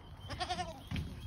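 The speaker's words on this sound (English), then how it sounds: "There's Astro, my little goat," A small farm goat gives a single short wavering bleat, close and fairly quiet, followed by a brief low grunt.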